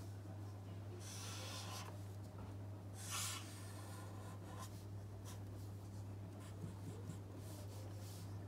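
A normal distribution curve is drawn by hand with pen or marker in a few soft scratching strokes, spaced apart and faint over a constant low electrical hum, with no talking.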